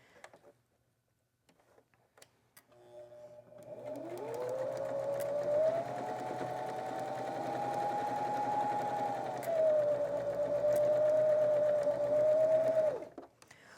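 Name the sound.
sewing machine sewing log cabin quilt strips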